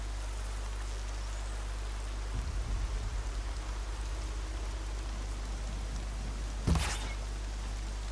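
Steady rain falling in the video game Horizon Zero Dawn, a constant hiss with a low rumble and a sharp brief burst near the end, no voices.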